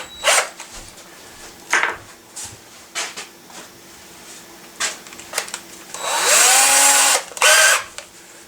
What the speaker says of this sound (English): Now it's just a matter of drilling that hole out and threading it.